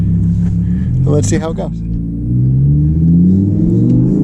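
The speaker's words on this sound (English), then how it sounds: "I'm going to drive in manual mode now" An Audi R8 RWS driven in manual mode, a steady low engine rumble rising slightly in pitch as it pulls, heard from inside under a short spoken remark.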